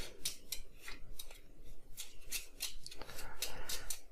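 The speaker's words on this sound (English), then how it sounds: "So let's do this little shuffling." Palm Island board game cards are shuffled by hand, giving a run of quick, close, crisp riffling swishes repeating steadily for several seconds.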